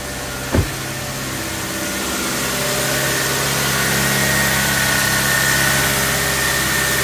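A Subaru FB25 engine runs in naturally aspirated mode with no supercharger whine, a steady droning idle with a single knock near the start.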